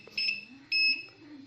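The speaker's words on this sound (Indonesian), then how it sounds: "Kemudian kita coba lagi apakah buzzernya berfungsi atau berbunyi atau tidak." Multitester continuity buzzer set to its buzzer range, giving two short, shrill electronic beeps in quick succession, loud and close over a faint background hum.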